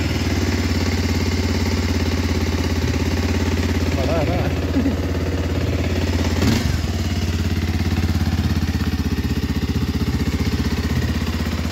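A motorcycle engine idles steadily after starting, a constant low loud throb with a brief rev-like bump midway, running alone for the whole stretch.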